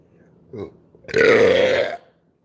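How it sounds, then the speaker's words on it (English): A brief throaty grunt followed by one long, loud, drawn-out burp close to the listener, then silence. "There's the belch."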